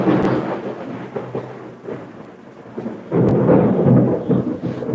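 Heavy rain pours steadily with loud rumbling thunder throughout, swelling into a stronger roaring downpour in the last two seconds; no one speaks.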